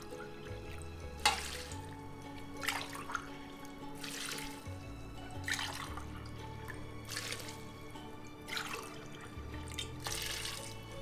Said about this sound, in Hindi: 4 ग्लास पानी डाल देंगे।